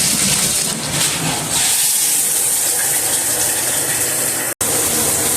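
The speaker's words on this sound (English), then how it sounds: "you are now good to turn on your shower" Steady broadband hiss of a home shower running, continuous and fairly loud throughout with a brief cut near the end.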